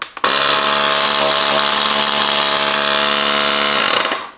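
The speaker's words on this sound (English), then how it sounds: "The on-off button for the compressor." The compact air compressor built into an Ultimate Speed UPK 10 H5 car jump starter and power bank switches on and runs, giving a loud, steady mechanical buzz with a strong hum, then winds down when switched off.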